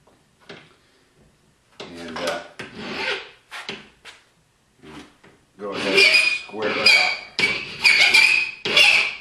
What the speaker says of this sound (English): Otherwise, you set it back up in your vise, take your trusty file.